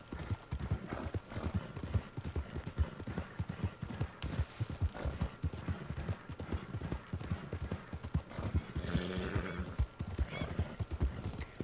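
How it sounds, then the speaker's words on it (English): Rapid, rhythmic hoofbeats of a horse at full gallop in the video game Red Dead Redemption II, steady and close, with a brief neigh partway through and no talk. "Have to slow down from a full gallop so that the stamina can refill."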